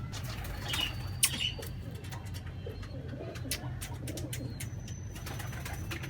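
Soft pigeon cooing in the background over a steady low hum, with faint rustling and occasional sharp ticks throughout.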